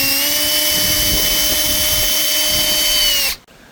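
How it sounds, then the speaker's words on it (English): A step drill bores holes through the trunk lid of a 2015 Nissan Altima, a loud steady whining drone with high harmonics that runs continuously for about three seconds, then cuts off abruptly. "once you got your holes drilled, you can go ahead and take your painter's tape off"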